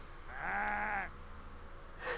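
A single drawn-out sheep bleat from the PlayStation game Sheep, loud and close for about a second, followed by a shorter faint bleat-like tone at the end, with no talk.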